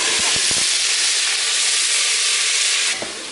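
Stock poured into a hot pan of cooking onions and meat gives a loud, steady steam hiss and sizzle lasting about three seconds, with a few faint clinks at the start before it eases off.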